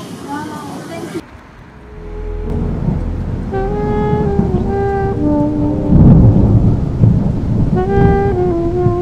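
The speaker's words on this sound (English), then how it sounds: "It's raining outside." Rain falls outside as a steady, loud, broad hiss with a low rumble. Voices and tonal sounds rise and fall over it throughout.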